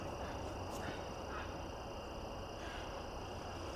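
Ducks quacking near a trail by the water in a forest at night, a few faint calls rising over a steady broadband noise floor with no talk.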